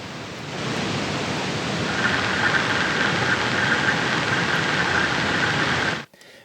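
Steady, loud hiss of simulated tape noise from the Reels tape-simulation plugin by Audio Thing, blended with a low motor hum, holding constant for several seconds before cutting off abruptly.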